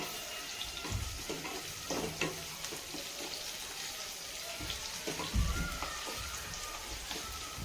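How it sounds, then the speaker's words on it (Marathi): Sliced onion sizzles in a pan over a gas flame, a soft steady crackle with a few louder clinks and scrapes of stirring, quiet and close. "आपण कांदा परतून घ्यायचा आहे"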